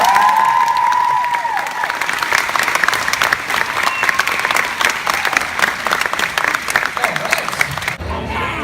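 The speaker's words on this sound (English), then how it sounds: "Big round of applause." An audience breaks into sustained applause with some cheering after a talk on stage, the dense clapping steady and loud for about eight seconds before cutting off abruptly near the end.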